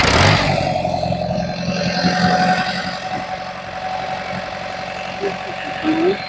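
A Farmall 140 tractor engine runs steadily at idle, a low continuous rumble close by with talk over it throughout.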